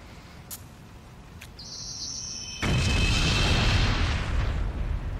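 A pendant bomb explodes in the video game Killer7, a sudden loud blast that swells into a sustained roaring rumble after a few thin tones and faint clicks, with no voices.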